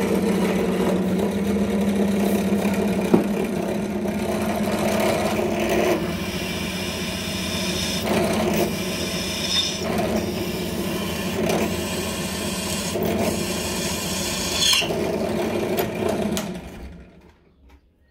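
A drill whirs steadily for a long stretch while drilling holes in wood blanks, rising and falling in pitch as it bites in, then winds down to silence at the end.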